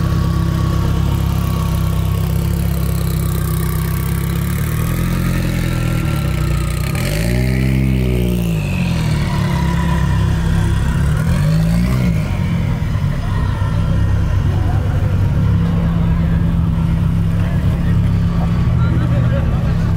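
Honda cars roll past at a car meet, engines idling and revving in a low steady drone with one car passing close around the middle, people chatting over the engine noise throughout.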